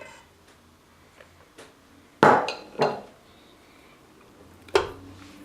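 Metal spoons clink against a mixing bowl while sugar is tipped into chocolate buttercream, a few sharp, close taps and scrapes spaced seconds apart over a quiet kitchen background.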